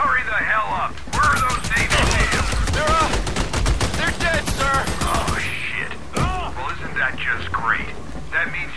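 Video game gunfire from Army of Two hits the player in a dense, loud burst of rapid shots lasting several seconds. Scattered impacts and effects follow, with voices talking throughout.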